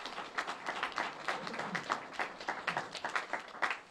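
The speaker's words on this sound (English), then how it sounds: "So please, give them a round of applause for all that they do." An audience applauds school district leaders at an event for the new Pawtucket High School, with scattered, moderately loud claps and murmuring voices.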